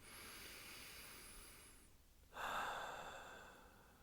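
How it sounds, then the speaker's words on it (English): A slow, deep, comfortable breath: a long soft airy inhale followed after a brief pause by a fuller, louder exhale, close and quiet. "start taking deep, comfortable breaths, like this"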